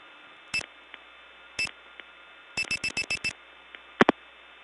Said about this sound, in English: That is the sound of a selector resetting because we hit a bad link.